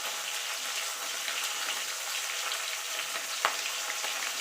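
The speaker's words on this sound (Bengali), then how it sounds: "স্যাজরার মাছের মাথাটা কিন্তু একটু ভালো করে ভাজতে হবে।" Fish heads with salt and turmeric fry in hot oil over lowered heat, making a dense, close, steady sizzle with a single sharp knock partway through.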